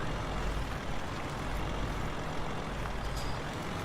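Heavy off-road truck in Spintires: Mudrunner pulling through deep mud on the Breda Pass map, a steady loud engine drone with low rumble and hiss, continuous and close throughout with no talking.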